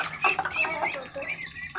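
A small flock of ducks calls nearby at bath time, with several overlapping nasal quacks and squawks in quick, irregular bursts.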